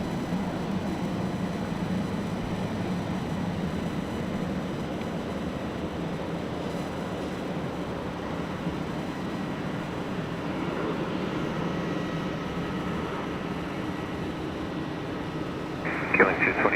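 A Qantas Boeing 737 airliner lands at Sydney Airport, a steady distant jet rumble that holds for the whole stretch, while air traffic control radio voices talk over it.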